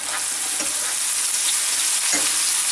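Onions frying in a pan for a mushroom casserole, a loud, steady close sizzle with a couple of soft stirring scrapes and no talking.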